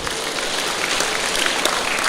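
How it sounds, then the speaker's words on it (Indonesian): Loud, dense clapping from a church congregation during a sermon on family and marriage, close and steady throughout with no voices on top. "Tepuk tangan untuk Pak Sutri ini."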